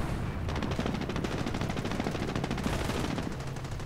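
Rifle and small arms fire in a wartime strategy game, a sustained, rapid rattle of automatic gunfire with rhythmic bursts and rumbling battle noise underneath, loud and continuous throughout, no voices.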